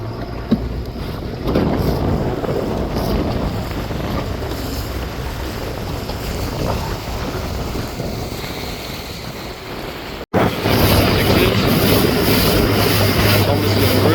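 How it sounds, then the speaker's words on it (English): Steady wind gusts roar across the microphone during a sailboat race on open water, a constant broadband rush with water and hull noise beneath, briefly cut and then resuming louder, with a voice faintly under it. "Probably the best gusts we've had all day right now"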